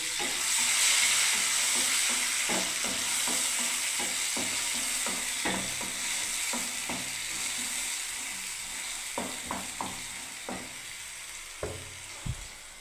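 Tomato paste, along with onion and ginger paste, is stirred in a frying pan: a steady hiss of frying underlies repeated scraping knocks of the spoon against the pan, close and moderately loud throughout.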